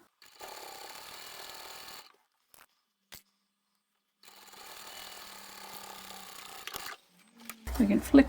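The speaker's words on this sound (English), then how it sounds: "Back stitch and sew to the end" A sewing machine stitches a seam on a lined tote bag, backstitching and then sewing to the end. It runs in two steady bursts separated by a pause, with brief clicks in between and a rustle of fabric at the close.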